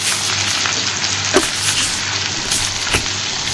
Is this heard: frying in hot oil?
yes